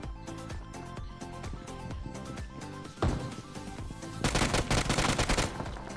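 A UMP 45 submachine gun fires in a battle royale game, rapid bursts of loud, punchy shots in quick rhythmic succession, with a sharper impact around midway and denser, brighter gunfire in the final seconds.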